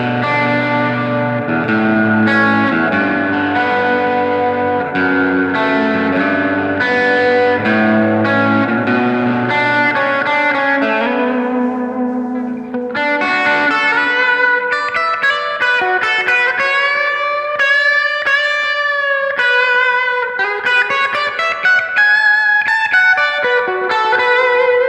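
An electric guitar plays through a distortion pedal combined with delay and plate-style reverb, first chugging thick driven chords, then soaring sustained lead notes with bends trailing into echoes, loud and up close without speech.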